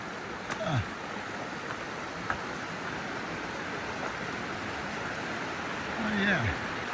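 Rushing water of Mill Creek running high beside a hiking trail, a steady broadband wash heard up close, with a voice briefly speaking over it near the start and again near the end.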